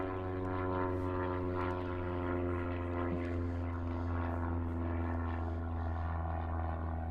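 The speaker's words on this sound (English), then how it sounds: "the plane is coming by" A propeller plane passes overhead as a steady, loud drone with a deep hum, continuous throughout with no voices, recorded outdoors during a PepperBall Lifelite launcher test.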